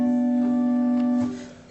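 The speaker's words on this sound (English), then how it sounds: "which is a stop diapason, it sounds like this." A stopped diapason stop on the church pipe organ at St Marys The Virgin, Radwinter, Essex, holds one steady, mellow, flute-like note loud and close for over a second before it cuts off into room echo.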